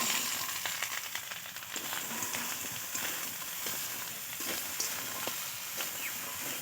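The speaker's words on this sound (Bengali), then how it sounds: "এবার কেটে রাখা আলু আর বেগুন এবার দিয়ে দেবো কড়া।" Potatoes and brinjal fry in a hot kadai with a steady, fairly soft sizzle and crackle, broken by occasional scraping knocks of a spatula.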